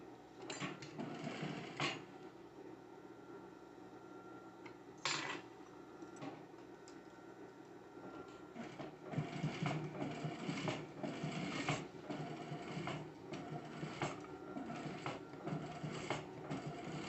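A sewing machine runs steadily, stitching the first seam close along the edge of heavy rug fabric for a fru fru cactus welcome mat, whirring continuously at close range with a few brief pauses and clicks.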